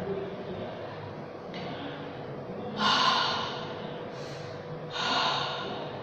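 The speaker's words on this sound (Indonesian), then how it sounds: "Angin hangat itu seperti orang yang menguap ketika mau tidur." Warm breath is blown onto a hand, like a yawn, in a few soft breathy exhalations, with the later ones louder and closer.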